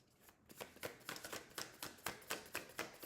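Paper cards shuffled and drawn for a weekly card reading, giving a run of soft riffling snaps in an irregular rhythm, close up and fairly quiet with no voices.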